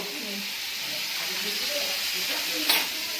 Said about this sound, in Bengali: চিকেনটা একটু ফ্রাই করে নিচ্ছে